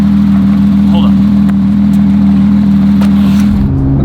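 A Porsche 991.2 GT3 RS fitted with an AWE exhaust idles with a loud, deep, steady growl close by. The tone shifts slightly near the end.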